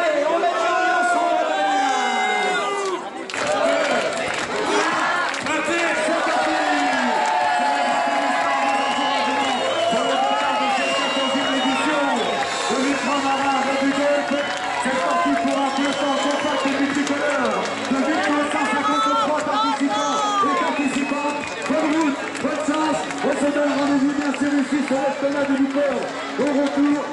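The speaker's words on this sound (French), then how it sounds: "on continue à applaudir les concurrents" A crowd of spectators cheers and applauds competitors at the start of the Ultra Marin 2018 running race, a dense, continuous roar of clapping, whoops and babble with music and a voice over a loudspeaker throughout.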